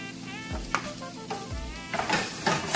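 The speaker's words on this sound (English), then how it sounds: "Then we're going to add the peppers." Peppers tipped into onions frying in a pan for vegan black-eyed peas, bringing a steady close sizzle with a few scraping stirs and utensil knocks, no voices.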